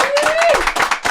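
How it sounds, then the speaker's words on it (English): Brief quick clapping for an All-Pro defensive tackle on a sports talk show, a few sharp close hand claps overlapping with a voice speaking over them. "Big round of applause for Jeffery Simmons."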